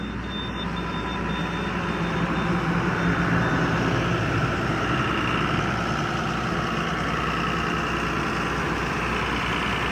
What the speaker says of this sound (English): This one's got a Cummins in it.